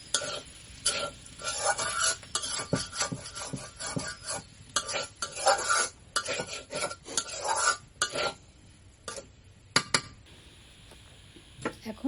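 Teasel gourd (kakrol) bhaji being stirred in a pan over a low flame: quick, irregular scraping and clattering of a spoon against metal, bursts of rasping strokes with short pauses over a faint sizzle, near and moderately quiet, no talking.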